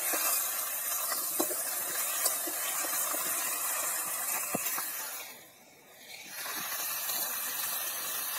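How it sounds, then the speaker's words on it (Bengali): Winter vegetables fry in a pan for a village-style live pond fish curry, giving a steady broadband sizzling hiss throughout with a few faint clicks, dipping briefly quieter before the sizzle returns. "সবজি খুব ভালো করে ভেজে নিচ্ছি"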